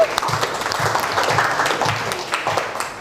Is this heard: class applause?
yes